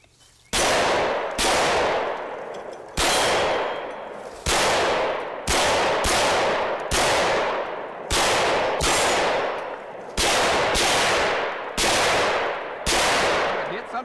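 A SIG Sauer P320 X-Five competition pistol firing about ten loud, close shots in an uneven rhythm, each sharp crack trailing off in a short echo before the next.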